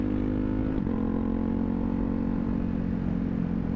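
A Ducati Hypermotard 690 single-cylinder motorcycle rides along on a chilly winter day in Arizona, its engine droning loud and steady close by, with a brief dip in pitch as it shifts, then holding an even tone.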